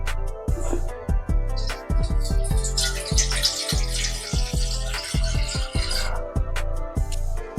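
Water poured from a glass into a cooking pot while preparing soya chunks gravy: a steady splashing pour in the middle of the clip, heard over tonal background music.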